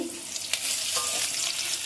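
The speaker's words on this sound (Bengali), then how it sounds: "ওই কারণে আমি একটু ভাজাটাকে উল্টে দিচ্ছি।" Pieces of pointed gourd (potol) fry in a pan as they are flipped, giving a loud, continuous close-up sizzle with a short spatter burst from the turning.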